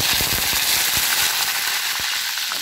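Curry leaves drop into hot oil with mustard seeds and chana dal while tempering for samba rava upma, giving a loud, continuous sizzle with sharp pops and crackles near the start that settle into a steady hiss.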